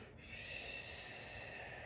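Sitali cooling breath, air drawn in through a curled tongue: one continuous, close, hissing inhalation lasting nearly two seconds, steady and airy with no talking.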